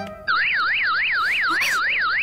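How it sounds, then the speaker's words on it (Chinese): A personal alarm device sounds with a loud, piercing, rapidly warbling electronic siren that rises and falls in quick, even cycles and continues steadily after it switches on abruptly. "警报器，"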